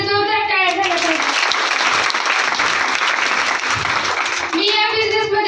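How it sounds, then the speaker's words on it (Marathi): Audience applause at a business recognition ceremony: a dense burst of clapping that swells and holds for about four seconds, with a voice talking just before it starts and again as it fades. "आपल्या सर्वांचे महागुरु टाटा साहेब इंग्रज सरांसाठी सुद्धा जोरदार टाळ्या झाल्या पाहिजे"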